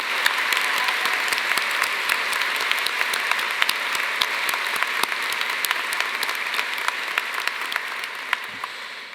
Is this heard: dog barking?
no